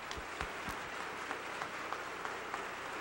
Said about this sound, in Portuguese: Que possamos homenagear a todos esses irmãos com uma salva de palmas.